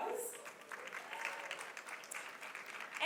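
Audience applause at a women's awards reception brunch, steady dense clapping from a seated crowd held at an even level throughout, with faint voices mixed in.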